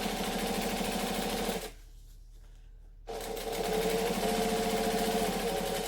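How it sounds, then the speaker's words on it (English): A sewing machine stitches a seam an eighth of an inch from the edge, running with a steady rapid whir, pausing for about a second and a half, then resuming its close, even hum. "I'm stitching 1/8 of an inch from the edge of the join that we just created"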